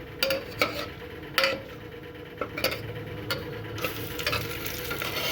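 Sliced onions frying in oil over high heat, a steady sizzle punctuated by several sharp spoon clicks and scrapes against the pan, close and alone.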